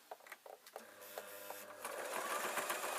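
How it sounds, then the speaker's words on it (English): A home sewing machine stitching a strip of cloth for a novelty pillow, starting with a few light clicks and then settling into a steady, fast mechanical whirr, close by and moderately loud. "I'm going to sew the other circle onto the bottom."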